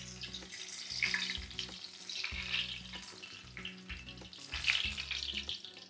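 Green chilies fry in hot oil for street-style onion samosa, a close, bubbling sizzle with crackling bursts that swell and ease in uneven waves, heard alone without talk.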